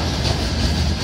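A train rolls steadily past a railway crossing in Ukraine, a close, continuous rumble and roar of passing wagons with no voices.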